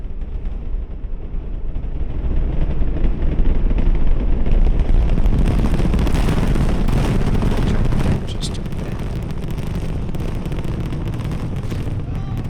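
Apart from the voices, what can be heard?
Artemis I rocket launch heard from a distance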